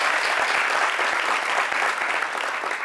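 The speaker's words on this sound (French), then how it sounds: "applaudissez pour vous" An audience claps continuously, a dense, even wash of applause that holds at a steady level for nearly three seconds.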